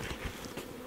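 Honeybees buzzing close by as a beehive's frames are handled during spring hive work, a short burst of busy insect droning.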